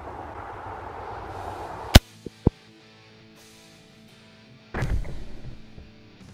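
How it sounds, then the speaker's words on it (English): A single sharp crack from a Ruger 10/22 rifle firing a round-nose .22LR bullet at a golf ball on a tee outdoors, loud and close, followed by a quick echo and a later burst of rustling noise. "Ruger 1022 with that round nose. I'm going to try to shoot it square in the center."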